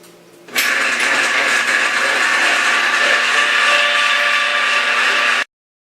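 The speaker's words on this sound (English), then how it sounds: "Now I have my small meat grinder out here and I grind it to a 3mm blade." A small meat grinder forces venison through a 3mm plate with a steady, close motor whir that starts abruptly, runs evenly for about five seconds, then stops dead.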